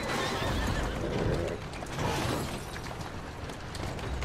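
A horse whinnies in the game Assassin's Creed Syndicate over a dense, noisy backdrop, with hooves clattering steadily beneath it and no voices.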